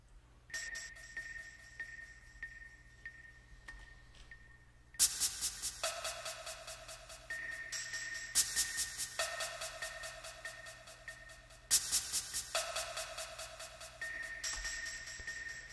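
Bright wooden clicks of a clave repeat in quick patterns, each hit trailing into echoing repeats and a spacious reverb wash, with sections switching between sparse and dense rhythms.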